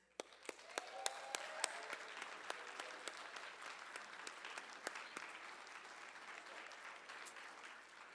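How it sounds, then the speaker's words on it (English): An audience at a symposium welcome in Winnipeg applauds, a continuous wash of clapping heard somewhat distantly, with a few sharper individual claps standing out. "I want to say a big round of applause."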